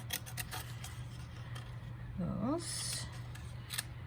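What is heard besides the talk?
scissors freehand cutting paper sentiments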